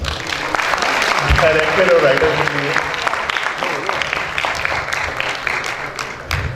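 Audience applause at a stage event for a 2022 drama, honoring its director and writer, steady and fairly loud across the clip while someone speaks over it.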